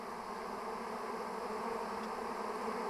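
A honeybee swarm settles into a log hive outdoors, giving off a steady, dense buzz that holds evenly throughout with no voices.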